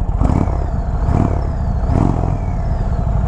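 A 2021 Indian Chief Springfield Dark Horse motorcycle fired up and idling through its mufflers, a loud, steady low rumble close by with slight swells in revs.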